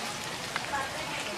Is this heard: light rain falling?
yes